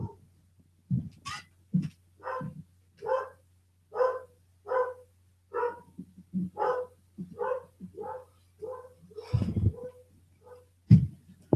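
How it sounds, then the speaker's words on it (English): Dogs bark in a steady series of sharp, separate barks, about a dozen spread evenly over several seconds, fairly close and loud against an otherwise quiet room, with no talking over them. "Dogs are barking."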